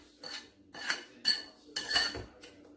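A spoon clinks and scrapes against a bowl while keto cheesecake sauce is mixed, in several short bursts of stirring with brief pauses between them. No one speaks.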